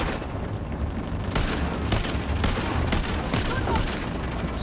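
RPG fire and explosions in the video game Uncharted The Lost Legacy: a loud, sustained barrage of booms and rapid gunfire, dense and continuous with repeated blasts punching through.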